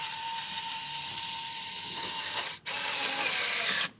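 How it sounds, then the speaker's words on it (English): A ratchet tightens bolts on a rear license plate bracket, giving a loud, steady mechanical whir that runs without break, stops briefly near the end, then resumes. "Let's tighten these bolts."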